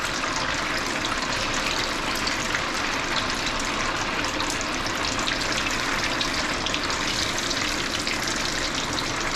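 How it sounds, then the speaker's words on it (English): Stinky tofu deep-frying in hot oil makes a steady, dense, loud hiss and bubbling roar that holds evenly throughout with no talking. "Fry time for this is about 5 to 7 minutes."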